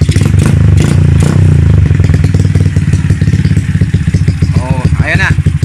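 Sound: Bajaj motorcycle engine running with 24mm carburetor

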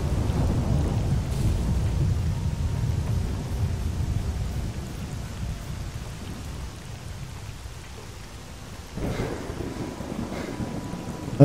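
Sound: thunderstorm with rain in video game S.T.A.L.K.E.R. Call of Pripyat

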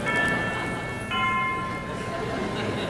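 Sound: clock chiming

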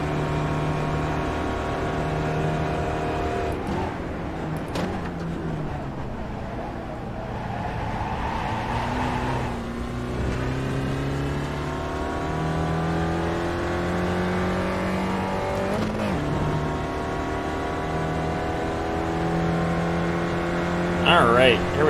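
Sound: race car engine revving in iRacing video game

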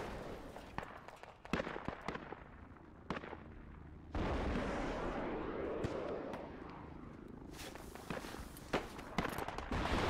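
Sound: rockets being fired in a video game

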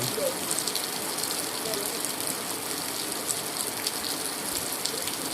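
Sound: rain falling

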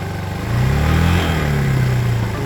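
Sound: Suzuki Djebel 200 motorcycle engine idling, revs rising

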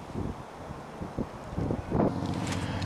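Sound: wind at a lake

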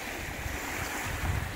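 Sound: lake waves

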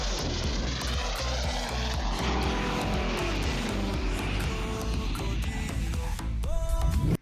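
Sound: airplane coming in to land

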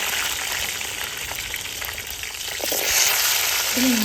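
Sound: peeled shallots sautéing in a pan

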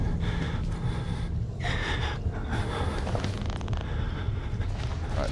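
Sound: heavy breathing and whimpering in the video game Outlast

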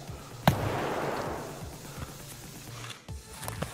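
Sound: gunfire in Escape from Tarkov video game

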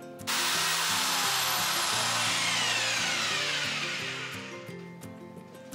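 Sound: power drill drilling through a wall for a light switch cable

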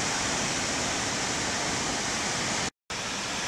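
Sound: waterfall flowing down

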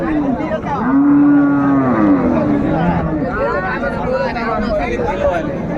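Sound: Sahiwal cow with calf mooing at cattle market

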